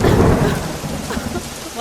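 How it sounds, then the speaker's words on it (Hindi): A stormy night with a heavy thunderstorm: a deep rumble of thunder rolls over dense, steady rain pounding a surface, loud and close throughout. "तूफानी रात,"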